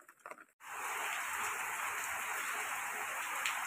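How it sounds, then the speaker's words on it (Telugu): Heavy rain pours down steadily as a dense, even hiss close by after a short clattering start. It stays constant and fairly faint, with no talking. "చూడండి జోరు వర్షం, బాగా పడుతుంది వాన"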